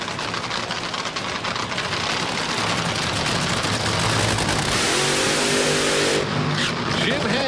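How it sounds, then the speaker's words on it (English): Top Fuel dragster at the 1999 NHRA AutoZone Nationals in Memphis doing a short burnout, a loud sustained engine roar with crackling tire spin, racetrack broadcast commentary faintly under it. "now doing these little short burnout for whatever reason"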